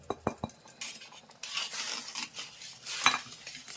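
A spoon clinks against a pot a few times, then roasted semolina is stirred into upma, with soft scraping and a light sizzle, quite quiet and close.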